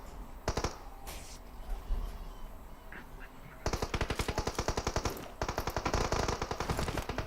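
Gunfire in the mobile game PUBG Mobile, a few scattered shots followed by a long rapid automatic burst of evenly spaced, loud, close cracks.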